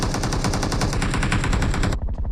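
Sustained rapid automatic gunfire in the battle royale game PUBG Mobile, a loud continuous burst of shots lasting about two seconds before cutting off abruptly, with no talk over it.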